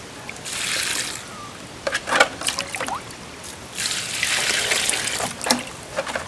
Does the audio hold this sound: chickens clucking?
no